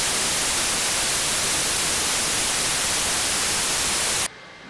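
Generated white noise spanning the full audible range, a loud, steady hiss like a waterfall that holds evenly for about four seconds, then cuts off abruptly to near quiet.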